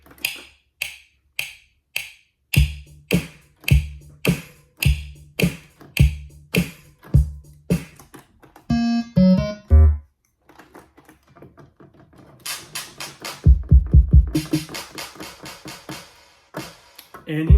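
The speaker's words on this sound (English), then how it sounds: "clap and this tambourine that I added" Sampled hip-hop beat on an ASR sampler, a steady swung drum loop that gains clap and tambourine layers, briefly interrupted by a short tonal burst, then returning with heavier low hits and shimmering tambourine.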